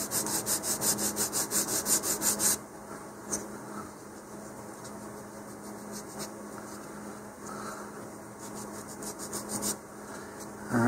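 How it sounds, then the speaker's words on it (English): Close-up rubbing strokes of an emery board sanding leftover nubs off a cut part for a Black Brant IVB-30 model rocket kit, quick regular rasping for a couple of seconds, then softer intermittent scraping. "I'm just going to go ahead and use the same emery board here just to sand off any little nubs"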